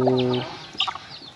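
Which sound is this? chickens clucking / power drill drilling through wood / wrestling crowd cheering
chickens clucking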